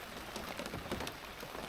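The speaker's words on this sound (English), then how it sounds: "the rain's getting worse" Rain falling at a boat mooring, a steady close patter of drops with scattered sharper taps, moderately quiet and continuous, no speech.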